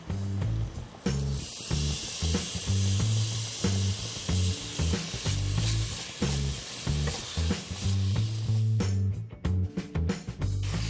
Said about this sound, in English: I'm adding in the finely chopped onions. Grated carrots.